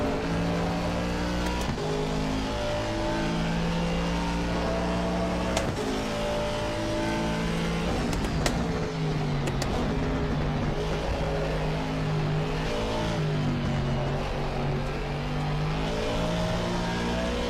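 Race car engines from the Assetto Corsa Competizione racing game drone and rise and fall through gear changes, with several cars close by and steady, loud engine noise throughout and no talking.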